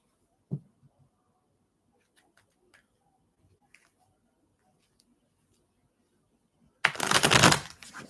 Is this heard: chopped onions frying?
no